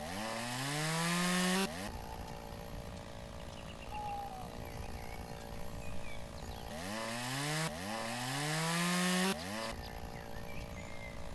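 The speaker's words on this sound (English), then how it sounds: "using a chainsaw." A chainsaw in the video game Lumberjack's Dynasty runs in loud bursts, rising as it revs and cutting through wood, with quieter idling stretches between two strong revving passes.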